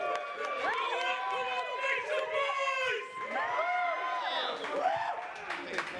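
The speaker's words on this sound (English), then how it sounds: "Give him a round of applause, guys." A crowd at a rap battle event cheers, whoops and shouts for a rapper, a lively continuous roar of many voices with some clapping.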